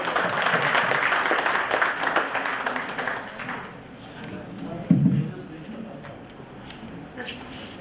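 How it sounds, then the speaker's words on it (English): Clapping from an audience at a business conference hall rises briefly, then thins out as a voice speaks over the fading applause, with one louder thump partway through. "Please give him a round of applause."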